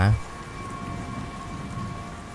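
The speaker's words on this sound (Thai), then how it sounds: "ในตอนนั้นสายฝนก็เริ่มตกลงมาเบา ๆ" Light rain falls as an animated sound effect, a soft even hiss of drops that holds steady after a brief thump at the start.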